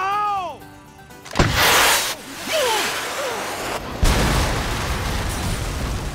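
In a scene from the TV series Justified, a sudden loud blast erupts after a musical tone, followed by a rumbling roar, a fading whoosh and a second burst.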